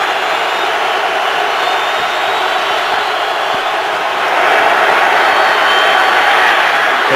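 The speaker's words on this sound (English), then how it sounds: "The crowd here at this stadium can get really loud" A big stadium crowd roars steadily through an NFL football game between the Raiders and the Browns in Cleveland, rising louder near the end zone's Dog Pound section, a continuous broad wash of noise with no clear breaks.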